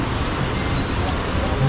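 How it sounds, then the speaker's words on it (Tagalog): Heavy rain pours down in Cavite in a steady, loud, dense hiss that continues without a break. "Ay, naku, umulan pa. Lakas ng ulan sa Cavite"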